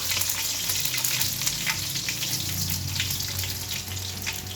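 Garlic frying in a pan, a loud steady sizzle with bright crackling pops throughout, close and continuous with faint scraping beneath.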